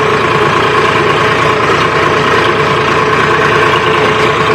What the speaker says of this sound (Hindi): सामने जेसीबी चल रही है